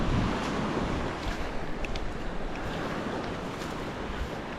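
Wind on a bay heard from a boat: a steady, loud rush of wind noise buffeting the microphone, with water sounds beneath and no voices.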